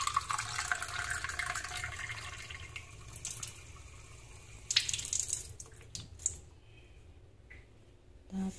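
Tap water runs and splashes as it is poured into the small water tank of a handheld garment steamer, a steady trickle that fades out with a few clinks and handling noises near the end.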